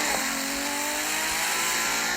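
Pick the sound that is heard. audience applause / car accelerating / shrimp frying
car accelerating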